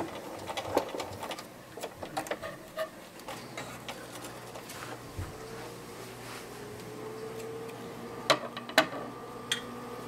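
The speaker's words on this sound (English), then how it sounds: "I'm going to back tack at the other end. That's just sewing in reverse." A sewing machine runs in reverse to back tack a seam on a fabric doll pencil case with Velcro, a steady close whirring studded with small ticks and clicks, with no talking.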